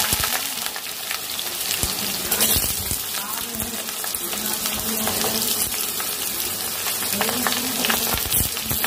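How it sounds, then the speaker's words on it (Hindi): Diced potatoes frying in oil in a home kitchen pan for poha, giving a steady, close crackling sizzle throughout, with faint clinks of stirring and no talk over it. "पहले मैं आलू को पहले अच्छी तरह से भून लूंगी, बिल्कुल सुनहरा ना हो जब तक"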